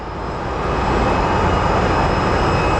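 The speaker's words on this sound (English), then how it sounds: "I can kind of see the American Airlines 777 lining up." Steady, loud roar of an American Airlines Boeing 777 jet at Sky Harbor Airport, a broad continuous engine rumble that swells slightly and then holds, with no voices.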